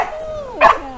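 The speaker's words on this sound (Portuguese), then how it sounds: "Cachorro querendo pegar o drone." A dog gives one sharp, close yelp-like bark while chasing a hovering drone outdoors, the short bark standing out over a faint background tone.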